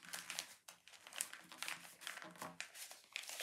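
Paper crinkles and rustles up close as the wing of a Piercer paper plane is folded, with quiet irregular crackles and short creases in quick succession.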